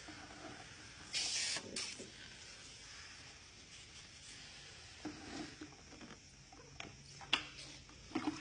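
Tack solution is sprayed from a bottle onto a car's rear fender while paint protection film is fitted. A few short, faint hissing spritzes sound close by in a quiet room, the clearest burst coming early.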